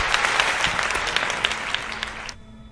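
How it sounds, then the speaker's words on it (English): A crowd's dense round of applause for a guest, with scattered sharper claps poking through, runs at a steady level for over two seconds before cutting off abruptly to near silence. "Let's give him a round of applause, shall we?"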